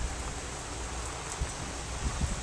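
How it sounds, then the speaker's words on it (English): Hard rain falls outdoors in Hialeah, Florida, a soft, steady hiss of drops with a few faint nearby taps, recorded fairly quietly and without voices. "You see how hard it's raining right now?"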